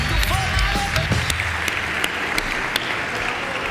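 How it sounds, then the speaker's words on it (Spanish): Awards ceremony audience applauding, a steady roomful of clapping with a few sharp individual claps standing out, and brief talk over the start. "Un aplauso, que no suba solo, por favor"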